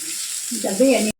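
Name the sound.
spiced mixture frying in a pan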